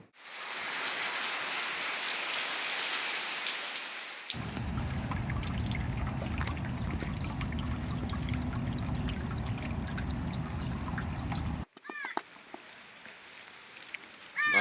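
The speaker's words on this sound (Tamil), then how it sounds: "இன்றைக்கி சரியான மழைங்க." Heavy rain falls steadily, first as a bright hiss, then as a fuller, lower rush with dense drips and patters on surfaces, before ending abruptly in a few scattered drops and clicks.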